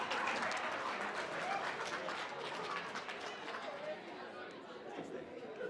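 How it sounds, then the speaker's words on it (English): A crowd at a medical research talk applauds warmly for a returning presenter, the clapping mixed with chatter and a few voices, loud and steady before easing slightly toward the end. "Let's give a nice big round of applause for Michael Ashbolt, one of our returning presenters."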